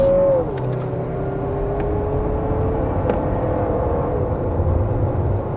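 A Lexus NX 350 F-Sport SUV with all-wheel drive accelerates hard, its engine droning steadily from inside the cabin while gear pitch shifts smoothly, with a constant loud road and engine rumble throughout.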